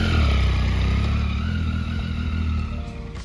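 A motorcycle on a test ride, a potential new purchase, drones steadily with a low, continuous engine roar that stays close and loud before easing off slightly near the end.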